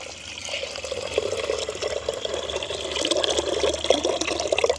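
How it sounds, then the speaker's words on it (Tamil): Water being poured into a pot of rasam during village cooking, a steady close splashing and trickling stream that runs alone for several seconds and swells slightly toward the end. "இந்த ரசத்துக்கு வந்து நாங்கள் தண்ணி எந்த அளவுக்கு தேவையோ அந்த அளவுக்கு நாங்கள் தண்ணி கலந்து விடுவோம்"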